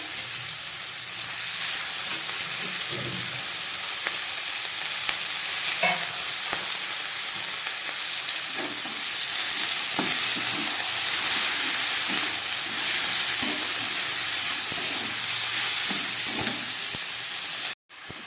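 Chopped ivy gourd leaves go into a pan of vegetables already frying in oil, giving a long, even sizzle and hiss with intermittent soft stirring clatter, ending in a sudden cutoff.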